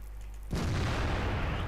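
A heavy tank cannon shot slams into a target in World of Tanks, a sudden loud boom after a quiet start, followed by a dense rumbling roar that stays strong to the end.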